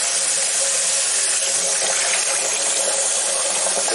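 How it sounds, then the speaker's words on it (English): Hot tap water running steadily while hair is rinsed, a continuous close hiss and splash with no pauses. "Let the water run."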